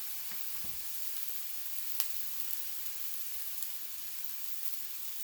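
Food fries in a pan with a steady, even sizzle that holds throughout, broken by a few faint clicks and taps.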